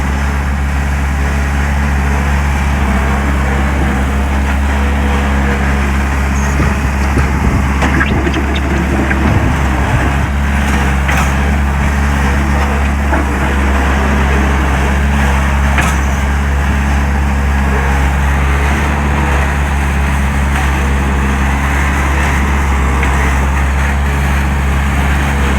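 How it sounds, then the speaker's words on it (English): A lorry dumps its load at a beach house building site in Barbados, a steady low engine rumble with a rougher scraping, tipping surge partway through, nearby and continuous with no talk. "Lorry off the dumping."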